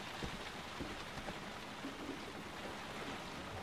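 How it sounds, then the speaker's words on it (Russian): Steady rain in the video game Heavy Rain hisses evenly throughout, a soft, continuous wash of falling drops with a few faint low thumps, quiet and unbroken. "вечно идет дождь"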